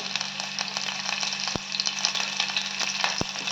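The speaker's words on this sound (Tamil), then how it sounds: "எண்ணெய் காய்ஞ்சிருச்சு வெங்காயம் போட்டுக்கோங்க பச்சை மிளகா கொஞ்சம் ஃப்ளேவருக்கு" Onions and green chilies fry in hot oil for mutton chops, a close, steady crackling sizzle with a couple of sharp clicks of a utensil against the pan and no talk.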